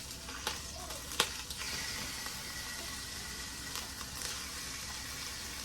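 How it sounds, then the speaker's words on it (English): Chicken thighs sizzling and frying in a hot pot, a steady close crackling hiss with a few sharp pops and clinks. "You hear that sizzle?"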